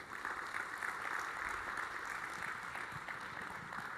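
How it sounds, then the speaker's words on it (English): Faint, distant applause from the audience at an award presentation as Ben and the Coca-Cola partners are welcomed, a soft continuous wash of clapping in a large room. "So a round of applause for Ben and our partners at Coca-Cola"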